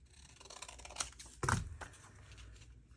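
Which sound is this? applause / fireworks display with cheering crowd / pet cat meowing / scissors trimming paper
scissors trimming paper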